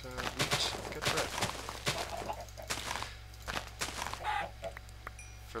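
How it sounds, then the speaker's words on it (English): Chickens in a crafting-and-survival video game are struck over and over, producing a rapid, irregular series of hit sounds mixed with squawks and clucks. "I'm frantically swinging at these chickens"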